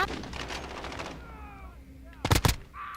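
Video game gunfire: a brief burst of two sharp, loud shots near the end, following a stretch of quieter in-game sound with background speech.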